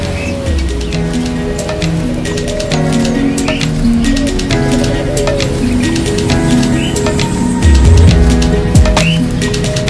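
Caged birds in a bird and fishing-bait shop in Cililitan, East Jakarta, a dense mix of chirps, trills and dove coos overlapping continuously throughout, with faint indoor clatter.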